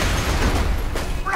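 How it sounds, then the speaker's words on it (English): Explosions in the video game Borderlands 2, a dense rumbling burst of blasts and crackling booms packed into a short moment, loud and close. "Why is there so many explosions?"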